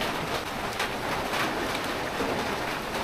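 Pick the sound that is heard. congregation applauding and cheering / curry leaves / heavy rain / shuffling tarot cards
heavy rain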